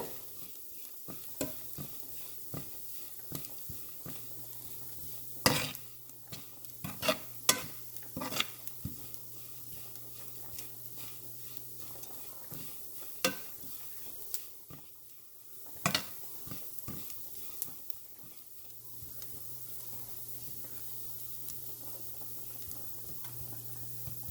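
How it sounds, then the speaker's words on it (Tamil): Small prawns frying in a pan, a low steady sizzle broken by sharp pops and crackles, with occasional scraping stirs. "பொரிச்ச வாசமும் வருது கலகலப்பான சத்தமும் வருது"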